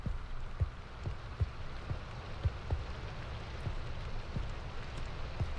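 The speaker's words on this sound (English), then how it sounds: "It sounds like it's raining." Steady rain in Minecraft hisses continuously, with soft irregular drips and low thuds tapping through it.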